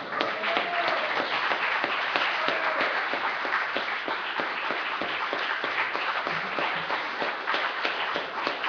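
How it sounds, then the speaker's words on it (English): An audience claps and applauds after a presentation at a community forum, a steady, moderately distant patter of many hands that carries on without a break through the whole stretch. "another round of applause for that presentation"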